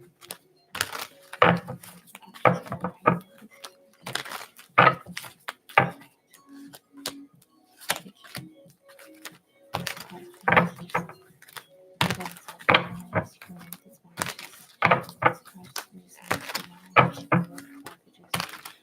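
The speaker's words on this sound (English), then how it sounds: "look at how well these cards shuffle" Tarot cards being shuffled in bursts of crisp riffling and tapping, with pauses between, close by and fairly quiet.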